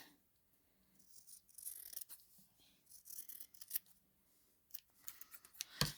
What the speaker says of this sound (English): So what I do is just roughly cut around that.